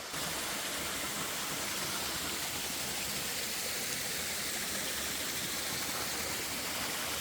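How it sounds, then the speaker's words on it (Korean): A waterfall in Yongchu Valley on Daeyasan plunges into a large pothole pool, giving a steady, dense rush of falling water that stays loud and unbroken throughout with no voices. "대하산 용추계곡의 시그니처 폭포에 도착합니다."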